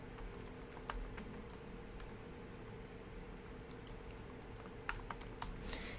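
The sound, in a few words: typing a password on a computer keyboard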